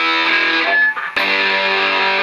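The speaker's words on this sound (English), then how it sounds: "with a more harder edge distortion, more fizzy" Sustained, buzzy distorted electric guitar tone through a distortion pedal, with a fizzy, hard edge, ringing steadily with a brief dip and a fresh strike partway through.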